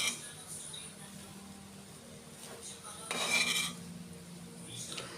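Spoon stirring vegetable fried rice in a metal pan, faint scraping with a few sharp clinks against the pan, close and quiet with a voice briefly heard.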